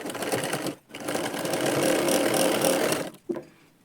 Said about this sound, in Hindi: तो हम इसमें सिलाई लगा कर आपको दिखाते हैं